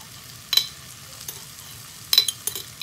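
Shrimp paste (bagoong alamang) sautéing in a pan at home, with quiet sizzling and a few sharp scraping stirs at scattered moments.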